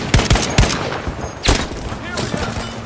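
Bursts of gunfire ring out in a naval combat video game, a cluster of sharp shots near the start and more scattered reports later, with brief voices in the background.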